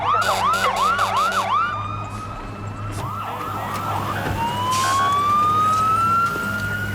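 An ambulance siren blares close and loud, first in rapid repeating yelps, then in a long rising wail.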